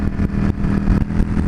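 A motorcycle, a Yamaha V-Star, cruising fast along a road at about 80, its engine droning loud and continuous with wind rumble and slight fluctuations in pitch as it holds speed.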